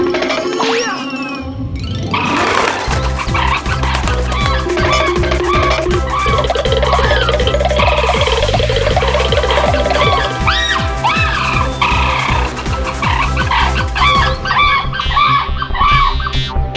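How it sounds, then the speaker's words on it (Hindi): A cartoon rooster squawking and clucking in a Hindi children's animated show, repeated loud honking calls over busy comic music and sound effects lasting well over ten seconds. "मुर्गा, एक मुर्गा।"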